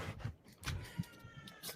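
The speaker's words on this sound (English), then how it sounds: "There's a cat over there." Faint cat meows, a few short cries in a row at moderate distance, heard over soft room noise.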